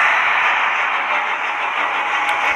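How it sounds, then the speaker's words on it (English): Steady, loud train rumble in a horror-themed Peppa Pig video game, a continuous roaring hiss that holds level throughout with no talking. "Oh, shut up, you train."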